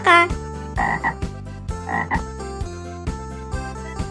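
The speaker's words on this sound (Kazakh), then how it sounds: "Бақа." A frog croaks loudly nearby in a steady series of repeated calls, about seven or eight evenly spaced croaks with a few longer, buzzier ones.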